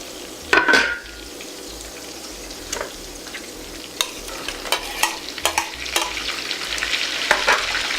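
Tomatoes frying in a pan while being stirred, with a steady sizzle under repeated scraping and clinking strokes of a utensil against the pan as part of a salmon and dumplings dinner.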